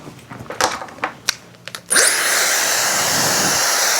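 A hair dryer blows on bangs, switching on abruptly partway through with a rising whine and then holding a steady, loud airy roar; light handling clicks come before it.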